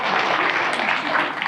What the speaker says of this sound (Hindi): क्या बात है, जोरदार तालियां इनके लिए।